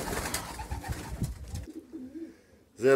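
A racing pigeon back in its loft after a year away gives soft cooing over a rustling background, then a brief louder coo at the very end, close by.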